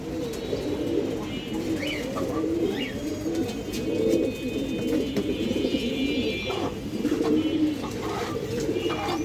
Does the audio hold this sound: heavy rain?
no